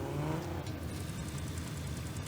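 Car engine in a racing video game benchmark, a fairly quiet, steady whirring drone as the car drives fast, with no talking.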